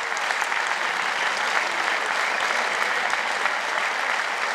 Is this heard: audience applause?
yes